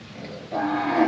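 A cow moos loudly and close by, a low drawn-out call rising after a moment of quieter background.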